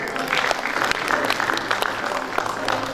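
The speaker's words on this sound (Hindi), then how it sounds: "थैंक यू माजिद के लिए बहुत सी तालियां जी।" Audience applause at an award show and musical night for a TV channel's anniversary, a steady dense wash of clapping that fills the whole stretch at even loudness, with faint voices underneath.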